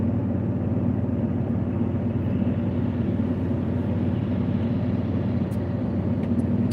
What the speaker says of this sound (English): We're testing them out on the freeway as well, I guess.